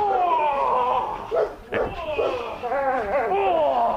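A protection dog in public bark training gives short yips, whimpers and whining vocal bursts close by, broken by a sharp sound near the middle, with no clear human speech.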